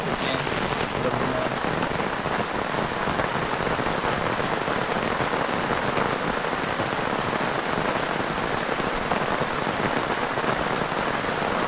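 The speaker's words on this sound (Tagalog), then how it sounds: "naabot na ako ng ulan" Steady heavy rain pattering on tents and surfaces at a motorcycle campsite in Lobo, Batangas, a dense continuous downpour close by, with faint voices now and then.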